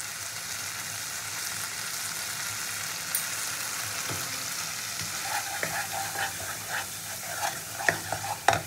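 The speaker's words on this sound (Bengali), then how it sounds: "সব উপকরণটা খুব ভালো করে কষিয়ে নিতে হবে" Chili paste, Kashmiri chili and turmeric are stirred and fried for a katla fish masala curry, with a continuous close sizzle and increasingly frequent stirring clicks and scrapes toward the end.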